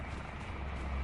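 A steady, faint rotor drone of a helicopter in a video game hums continuously in the background, muffled and distant, with no other distinct sounds.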